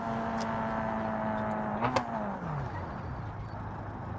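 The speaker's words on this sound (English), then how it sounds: "Car sounds alright." A car engine in the BeamNG driving game hums steadily at idle, then its pitch rises briefly before sliding down to a lower, settled drone, heard alone and at a moderate level.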